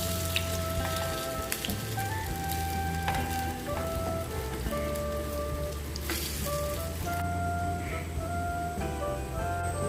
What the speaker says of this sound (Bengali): সাদা তেল দিয়ে আমি এই পকোড়াগুলো ভাজবো।